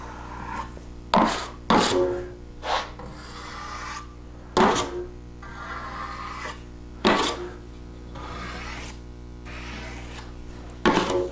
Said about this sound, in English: run your edge of your knife along the corner of the bull nose to pull some of the excess